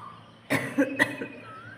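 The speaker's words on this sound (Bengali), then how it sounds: "বুঝতেই তো পারছো, এই যে কাশছি।" A short burst of coughing from a person with a bad cold, two or three quick rough coughs close to the listener, in an otherwise quiet room.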